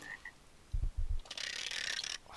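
A frog from the Minecraft video game croaks in a few quick low bursts, followed by a brighter rattling mechanical noise, fairly faint overall with no talk.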